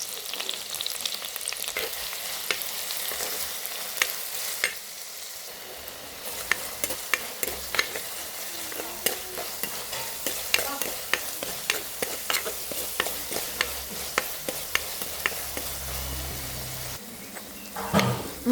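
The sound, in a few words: crushed garlic, ginger and shallots sautéing in hot oil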